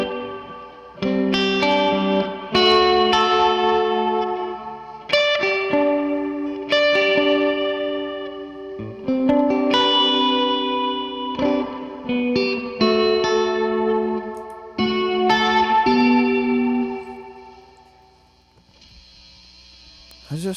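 Electric guitar played through a Meris Mercury X reverb pedal with chorus for a worship tone: shimmering, modulated chords and picked notes ring with lush reverb tails, loud and continuous, fading near the end.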